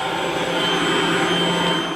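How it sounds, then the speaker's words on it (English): An Insectizooka vacuum sucking up engorged mosquitoes at a lamb feedlot near Ulm gives a loud, steady motor whine and airflow hiss that holds constant with no speech. "They're also using what's called the Insectizooka to vacuum up and collect engorged mosquitoes."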